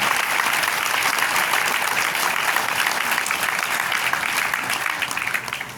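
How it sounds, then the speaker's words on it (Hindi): Loud, dense applause from a large audience at a stage event, a steady roar of clapping that holds for several seconds before easing slightly at the end. "मेरे महागुरु मिस्टर अशोक चौधरी सर के लिए जोरदार ताली होनी चाहिए"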